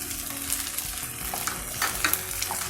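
Eggs fry and are stirred together with already fried vegetables in a hot pan for chicken fried rice, giving a steady close sizzle with scraping stir strokes and small clinks throughout.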